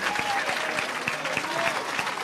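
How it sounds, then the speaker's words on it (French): A church congregation clapping hands in a steady, even rhythm, roughly three claps a second, with crowd noise and faint voices underneath. "Give a hand clap unto the Lord."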